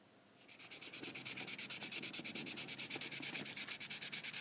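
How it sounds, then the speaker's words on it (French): Coarse 50-grit sandpaper rubs back and forth over a carved wooden spoon in quick, even strokes, a close, scratchy rasp repeating about six times per second after a quiet start. "Ensuite on a tout le travail de ponçage. Donc je dégrossis au grain 50."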